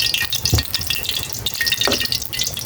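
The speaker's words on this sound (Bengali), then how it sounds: "তেল দিয়ে দিলাম খিচুড়ি রান্না করার জন্য তেল দিলাম" Hot oil sizzles and crackles steadily in a pan on a gas stove as cooking for khichuri begins, with a few clinks and pops close by.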